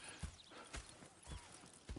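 Horse hooves in the video game Red Dead Redemption 2 clip-clop in a steady, evenly spaced rhythm, about four strikes over two seconds, fairly quiet and close.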